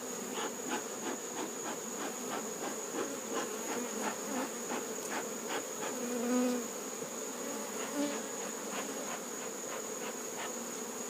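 Honeybees buzzing densely around a beehive, a loud continuous close drone with many overlapping wingbeats that swell and fade as individual bees pass near.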